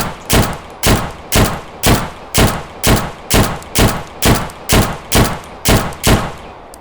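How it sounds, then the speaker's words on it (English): Beretta pistol fired in the video game Deadside, ten evenly spaced sharp shots about every 0.6 seconds, each loud and punchy with a short thumping tail, no voices. "And the Beretta, in my opinion, definitely sounds the coolest."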